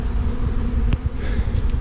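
Honey bees under a floor buzz continuously in a dense, droning hum close by during a hive removal, with no voices.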